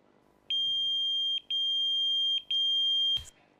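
Three long electronic beeps at a steady high pitch, each lasting about a second with short gaps, clear and close, followed by a brief click.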